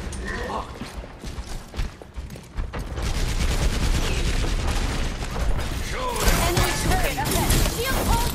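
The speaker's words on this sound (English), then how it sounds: "Enemy turret ahead." Rapid bursts of turret gunfire and mechanical clatter during an Overwatch match, loud and sustained, overlapping with game voice lines and other battle noise.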